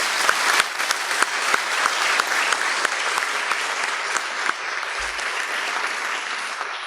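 A congregation applauds the volunteers at a church service, a full, loud burst of many hands clapping together that holds steady before easing slightly toward the end, with occasional sharper claps poking through.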